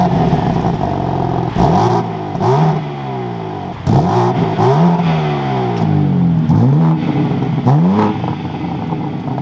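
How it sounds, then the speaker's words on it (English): A 2025 BMW M4 Competition xDrive starts up, then gets several sharp revs that rise and fall back to idle, loud and close, with each blip ending in a crackle. "Let's fire this back up though and take a listen to how the M4 sounds."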